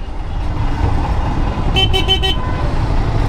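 A vehicle horn gives a quick burst of about four short toots in stuck traffic, over a constant loud rumble of engines nearby.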